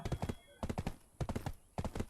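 Horse hooves clip-clopping in the online role-playing game Black Desert Online, a steady rhythmic gallop of quick hoof beats close up, under someone talking.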